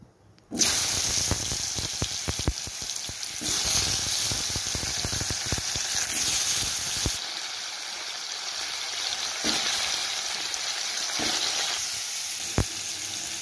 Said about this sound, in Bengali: এবারে প্রথমে আমি কুমড়োগুলিকে ভেজে নেব